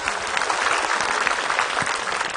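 Audience at an Indonesian Islamic television talk show applauds a female religious teacher: dense, even crowd clapping filling the short stretch without pause.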